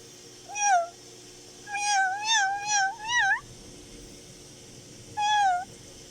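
Baby cats, newborn kittens of a wild cat, give high, rising and falling meows: a single cry, then a quick run of four, then one more after a pause. The calls are fairly close and clear over a quiet background, with no talking.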